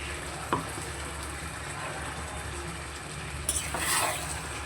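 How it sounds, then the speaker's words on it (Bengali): Spice paste frying in a pan for chicken with bottle gourd, a steady dense sizzle that holds throughout, close and fairly loud, with a few stirring scrapes and a brief brighter hiss near the end. "এবার মশলাটাকে তো খুব ভালো করে কষবো"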